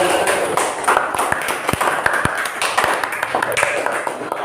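Audience of students in a classroom lesson clapping hands, an uneven patter of individual claps, some sharp and close, over a noisy room with voices in the background.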